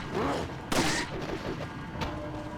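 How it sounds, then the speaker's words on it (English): An incendiary grenade goes off in Resident Evil 4 with a sharp, loud burst, followed by a smaller thump and the rumble of the game around it. "This is an incendiary grenade"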